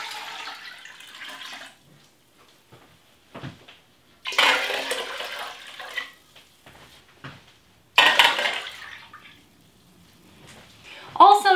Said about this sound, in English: we're gonna add 8 cups of water.